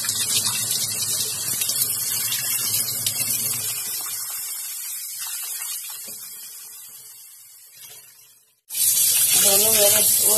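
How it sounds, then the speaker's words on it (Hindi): Rice and urad dal being washed by hand in water for dosa batter, with a steady running-water and splashing rush for about eight seconds, a brief lull, then a loud burst of gushing water at the end. "दो तीन पानी से रगड़ रगड़ के मैं धो दूंगी ताकि सारी गंदगी चावल से निकल जाए"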